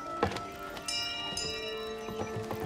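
A bell rings in the It Takes Two video game level Cuckoo Clock: Gates of Time, with bright sustained metallic tones over soft thuds and clip-clop-like footsteps, steady and fairly close.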